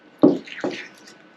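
Wet hole-patching compound is stirred up in its container, giving two short, soft squelching plops about half a second apart, close to the mic and alone.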